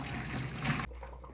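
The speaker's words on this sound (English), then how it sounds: "Now I'm gonna drain the water." Water drained from cooked pasta pours into a steel colander in a home kitchen, a steady close rushing trickle that cuts off abruptly near the end, leaving quiet room tone.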